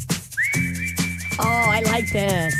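Whistled melody from a song, a bright sustained tune played clearly over the track's beat, with someone briefly speaking at the start.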